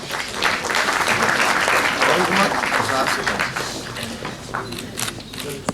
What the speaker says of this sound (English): Please give a big applause to them.